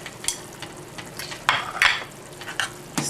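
A spoon stirs flaked fish through broth in a pot, making a soft bubbling sizzle broken by several sharp scraping and clinking strokes against the pan.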